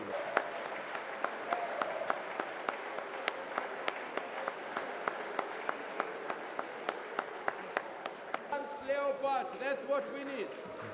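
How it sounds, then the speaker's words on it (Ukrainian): Sustained applause in a parliament chamber welcoming a German delegation, steady dense clapping from a large seated crowd with sharper individual claps, then a voice begins speaking near the end. "Давайте оплесками привітаємо шановних колег з Німеччини."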